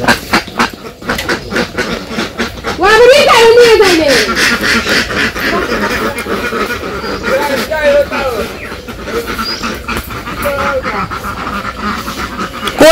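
Ducks quack in a village setting, a run of nasal calls rising and falling in the middle of the scene, mixed with close voices and rustling.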